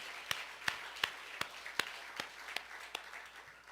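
A church congregation at a Korean Sunday service claps in a slow, spaced rhythm, about nine distinct beats, faint and somewhat distant in a quiet hall.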